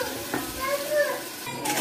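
Onion puree sautéing in a pan while being stirred for a stuffed brinjal masala, a soft, steady sizzle with light scraping that stays fairly quiet throughout.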